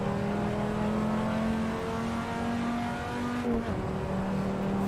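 A V10 race car in Assetto Corsa accelerates out of a hairpin, its engine a loud, close, steady drone that wavers briefly near the end.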